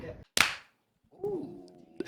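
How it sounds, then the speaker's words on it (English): Two podcast hosts clap their hands at the same moment, one loud sharp smack after a short voice, followed by a brief silence and then talking. "Simultaneous clapping."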